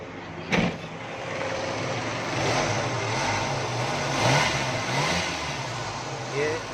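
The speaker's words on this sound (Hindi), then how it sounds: "ये हमारी गाड़ी गैस पर ऑन हो गई है जी, स्टार्ट हो गई है।" A car engine idles and revs after a petrol-to-CNG conversion, running on gas with a steady mid-pitched hum that swells a few times, heard nearby.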